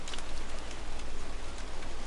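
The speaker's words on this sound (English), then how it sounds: "Oh, it's just raining." Steady rain falls in the Don't Starve Hamlet game, a continuous dense hiss of drops with no voices, even and constant across the short stretch.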